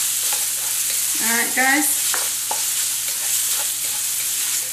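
Shrimp sizzling and being stirred in a hot pan for pineapple fried rice, a steady broadband fry with scraping stir noises, while someone briefly speaks over it.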